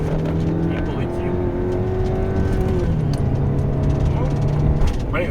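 A Chevrolet Captiva with an automatic gearbox accelerates at full throttle, its engine droning steadily and climbing in pitch before the transmission kicks down to a lower gear, heard from inside the cabin as someone talks throughout.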